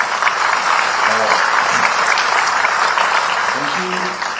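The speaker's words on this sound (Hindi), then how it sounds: "मैं चाहूंगा कि एक बार मेरा तालियों से स्वागत करें" A seminar audience at an engineering college in Dehradun breaks into loud welcoming applause, dense continuous clapping with a few voices murmuring underneath.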